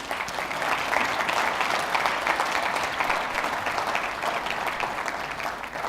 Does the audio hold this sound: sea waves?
no